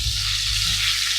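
Duck breast sizzling skin-side down in a frying pan with rendered fat, a steady close crackling hiss throughout with no talking.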